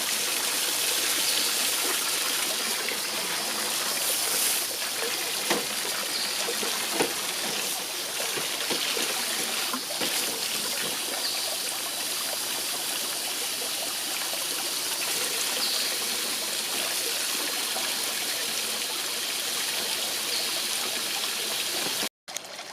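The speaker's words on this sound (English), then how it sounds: "I've got to replace all that water that I took out." Water pouring steadily and continuously into a compost tea bucket, a close, full gushing flow that holds at an even level for about twenty-two seconds, then stops abruptly with a brief splash at the end.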